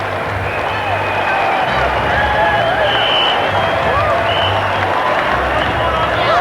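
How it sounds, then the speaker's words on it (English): A cricket crowd at Kingston gives Steve Waugh a standing ovation: a dense, steady roar of cheering and clapping that holds at a constant loudness throughout. "A standing ovation here at Kingston."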